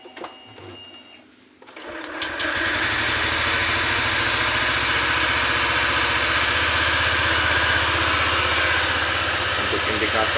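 A cold Honda Vario 125 scooter engine starts after a quiet moment and settles into a steady, buzzing idle close by. A voice is heard briefly before the start.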